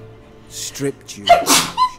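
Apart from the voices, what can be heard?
sneeze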